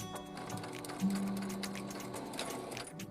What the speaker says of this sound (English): Unfortunately, I have to sew these seams again.